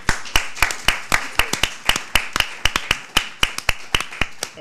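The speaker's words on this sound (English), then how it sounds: "Give a round of applause to Chris Soto." Sparse, uneven clapping from a small community-event audience honoring Chris Soto, House Vice Chair of Appropriations, a few pairs of hands giving sharp, distinct claps in an irregular rhythm, close and moderately loud.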